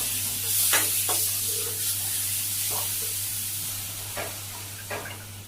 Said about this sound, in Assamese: তো এতিয়া লাহেকৈ পানী দিম।